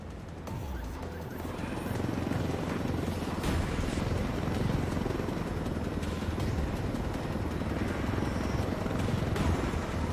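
A helicopter's rotor in the video game Ghost Recon Wildlands thrums continuously at moderate volume, a steady droning whir that builds slightly after the first second and holds without voices.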